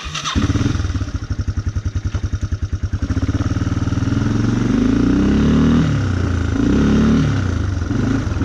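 A Honda Moto 4 quad's engine chugs in a rapid loud pulse that shifts into a rougher, rising rev and keeps running close by, with no talk.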